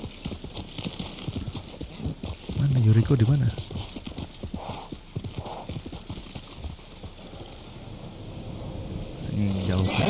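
Horse hooves clip-clopping in the video game Ghost of Tsushima, a steady fast rhythm of hoofbeats from a galloping horse under a rain-like wash, while someone talks over it.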